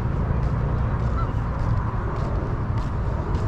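Ducks and geese gathered at a duck island near the Washington memorials, honking and calling continuously as a dense, moderately loud flock chorus over outdoor background noise.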